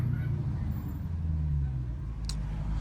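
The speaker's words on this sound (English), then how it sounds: "The car sound good downtown though." Dodge Hellcat engine rumbling steadily in a downtown street, a low continuous drone echoing off surrounding walls, with a brief higher hiss near the end.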